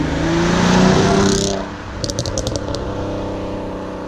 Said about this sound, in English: put an entirely free flow system exhaust in the back, and it sounds absolutely incredible